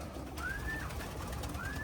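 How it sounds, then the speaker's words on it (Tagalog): Birds at a box perch cooing, two faint rising tonal calls separated by a pause over a constant low background hum. "Ayun, tinik-tik na mga ibon."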